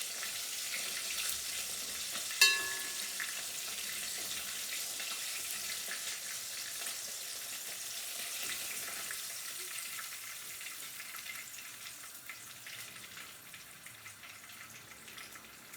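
Fish fries in a pan for an Easter meal, a continuous soft sizzle with one sharp clink early on, the frying hiss slowly thinning toward the end.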